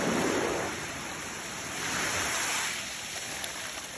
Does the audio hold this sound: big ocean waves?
yes